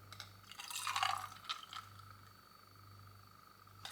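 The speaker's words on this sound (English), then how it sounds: "this is boiling water by the way" Boiling water trickles and splashes from a kettle onto instant coffee in a mug, a brief quiet pour close by with no talking.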